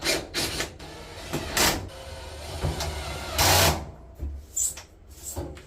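A power driver whirs in short bursts, driving screws into the back panel of a Maytag electric dryer, close by, with clicks and handling noise between the bursts.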